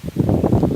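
Gusts of wind batter the microphone in a home garden, a loud close low rumble that swells and dips in quick pulses with no other sound over it.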